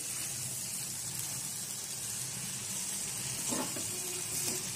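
Chopped spinach sizzling in a pan with beans, eggplant and potato, a steady close frying hiss with a brief stirring scrape near the end and no talk.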